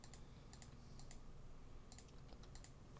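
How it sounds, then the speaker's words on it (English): Keys and a mouse click at a computer in scattered bursts, sharp and close but quiet, over a low steady background hum with no talk. "Sorry for any audio listeners if you just hear me clicking a bunch."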